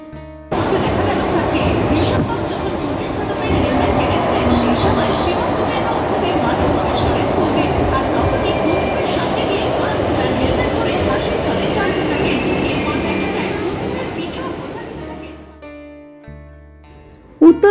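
A Kolkata metro train runs with a loud, continuous rail rumble and rattle that lasts about fifteen seconds, then fades and stops near the end, with some voices in the background.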